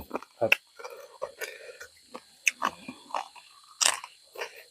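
Crunchy biting and chewing on grilled field crab shell, close up, in several short crackling bursts with pauses, while people talk in between.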